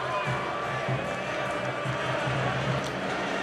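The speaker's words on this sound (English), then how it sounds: "Just a stunned crowd." A stunned basketball arena crowd murmurs in a low, continuous wash of distant voices, steady and subdued with no cheering peaks.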